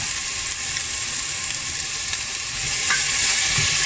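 Onions sizzling steadily in a pan while cooking vegetable rice soup, a close, continuous frying hiss with faint stirring and no talk.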